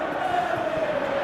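A stadium crowd in the PES 2018 football video game on PS3 chants steadily, a sustained sung tone held over a dense, even roar with no pauses.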